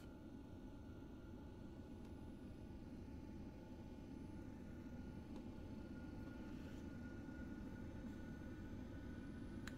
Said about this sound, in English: you can hear the engine spooling as well